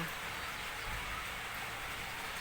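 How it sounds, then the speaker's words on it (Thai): Rain falls as a steady, even hiss with no break and no voices, fairly faint in level. "เสียงฝนดังนะค่ะเสียงฝนดัง"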